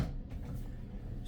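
A bathroom sink drawer in a cruise ship balcony cabin slides open or shut, a single soft, muffled movement heard on its own over faint room tone.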